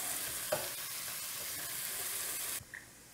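Shallot and garlic sizzle in a hot pan while being stirred for shrimp scampi with zucchini noodles, a close steady frying hiss with a light scrape of the utensil, stopping abruptly near the end.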